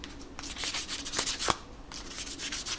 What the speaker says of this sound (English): I'm just going to file away